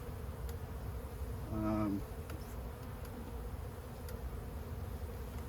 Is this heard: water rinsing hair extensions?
no